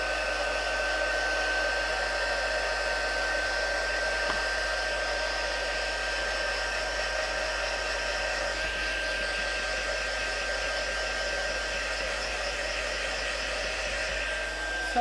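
A heat tool blows continuously while drying ink on a craft project, a steady loud whir with a high whine that runs unchanged throughout.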